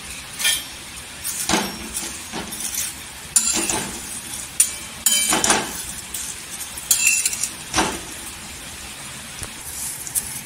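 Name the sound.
vermicelli being fried and stirred in hot oil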